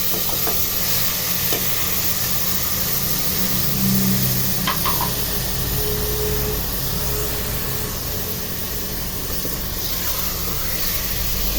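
Marinated chicken pieces hit a hot pan for Filipino sinampalukang manok with banana heart and give off a loud, steady sizzle. A few faint clinks of stirring sound over the continuous frying hiss.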